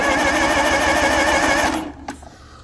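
A John Deere 345 lawn tractor engine turning over, a loud, steady mechanical whirring and rattling that runs continuously close up, then cuts off abruptly near the end, leaving a few faint knocks and clicks.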